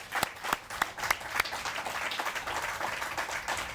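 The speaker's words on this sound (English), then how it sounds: "please stand up for a round of applause" An audience at a tennis Hall of Fame ceremony applauds, opening with a few sharp distinct claps that quickly merge into steady, fairly quiet group clapping which carries on to the end.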